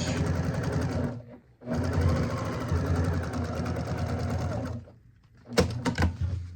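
A sewing machine stitching across fabric runs in two long continuous bursts of rapid mechanical whirring, separated by a short pause, then ends with a few brief stop-start runs, close and fairly loud with no voices.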